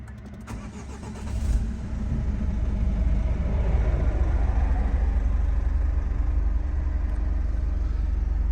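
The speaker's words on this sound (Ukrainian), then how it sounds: "Зараз я її заведу заводиться без проблем." A 2.0 diesel Renault Koleos 4x4 with 183,000 km cranks briefly, then catches and settles into a steady, close idle with a low rumbling drone and no voices.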